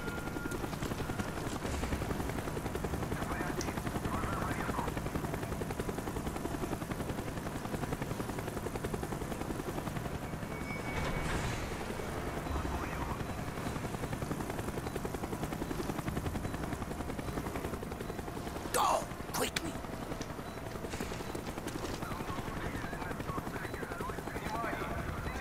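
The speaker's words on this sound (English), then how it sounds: "Avoid the helicopter spot." A helicopter drones steadily in the background throughout, with a low thrumming rotor noise, joined by scattered game effects and a brief sharp burst near the end, in Call of Duty: Black Ops.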